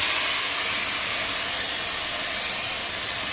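A Philips PerfectCare steam generator iron releases a continuous, loud hiss of steam, close up and unbroken for several seconds.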